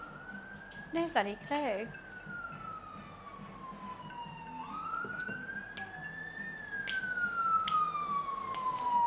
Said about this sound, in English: There's a whole lot more sirens today than usual.